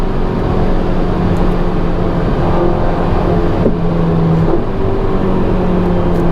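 Ferrari Roma accelerating hard, a loud, continuous engine roar heard close up from inside, with steady tone and slight pitch shifts as it pulls.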